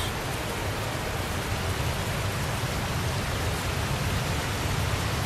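Steady, heavy rainfall in the video game Tales of Zestiria, a dense and continuous hiss of falling water at constant loudness, with no breaks and no voices.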